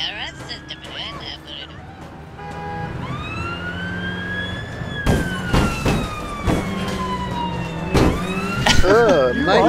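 A police car siren in the video game APB Reloaded rises into a loud wailing tone and sweeps steadily up and down, layered over game traffic and engine noise with a few sharp thumps and bursts.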